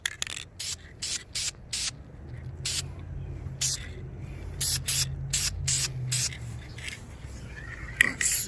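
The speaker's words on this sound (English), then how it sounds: "I've been spraying so much here lately" Short repeated bursts of aerosol spray paint on the front brake calipers of a 2004 Suzuki GSX-R 1000, a dozen or so hisses in an uneven rhythm, close and fairly loud over a low background rumble.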